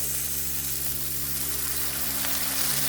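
Tuna flakes hitting a hot frying pan, a steady loud sizzle and crackle of frying oil held close and continuous throughout, with a low constant hum underneath.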